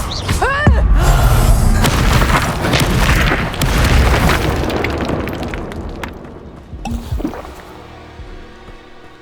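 A fiery blast from the Confringo explosion spell in Hogwarts Legacy, erupting amid other spell effects and battle clutter, with a deep booming burst early on and another impact later.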